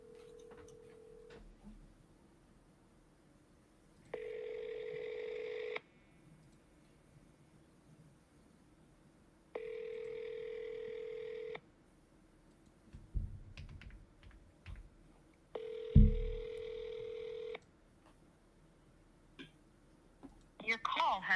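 Outgoing phone call: a short tone, then three evenly spaced ringback tones of about two seconds each, separated by quiet gaps with faint clicks and rustles, ending in louder handling noise.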